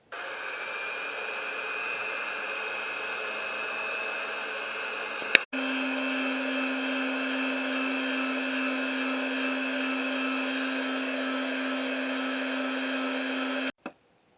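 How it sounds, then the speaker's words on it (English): A hand blender runs while mixing a batch of homemade liquid soap, a loud steady motor whine that cuts out briefly midway with a click, then restarts with a deeper tone and runs evenly until stopping. "it's time to move on to the hand blender."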